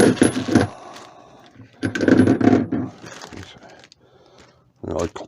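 Metal jaws for a Teknatool Supernova 2 woodturning chuck clink and rattle as they are handled, loud and close, with someone talking over the clanking.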